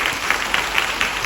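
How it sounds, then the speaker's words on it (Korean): An audience at a Korean film screening Q&A applauds an actor: a brief burst of steady, fairly loud clapping from a crowd, with no talk. "박수 한번 부탁드리겠습니다"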